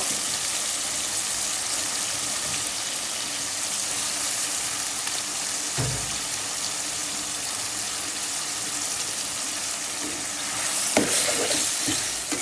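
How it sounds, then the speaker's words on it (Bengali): Cumin seeds and onions fry in a pan while cooking chicken gizzards, a steady close sizzle with a few brief stirring scrapes near the end. "জিরাটা দিয়ে দিলাম একসাথে পেঁয়াজের সাথে বেঁধে নিব"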